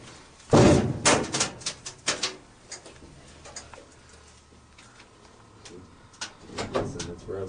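A door in a crematory and funeral home rubs and scrapes against camera wires, giving a loud scraping thump followed by a run of lighter knocks and rattles, then quieter scuffing near the end.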